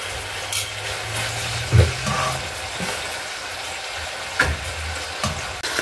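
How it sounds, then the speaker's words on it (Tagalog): Marinated pork bistek frying in oil in a pan gives a soft steady sizzle, broken by a few louder clatters and bumps of cooking. "Piprito-prito muna ako."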